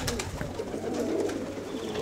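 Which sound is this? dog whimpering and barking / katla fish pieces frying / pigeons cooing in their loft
pigeons cooing in their loft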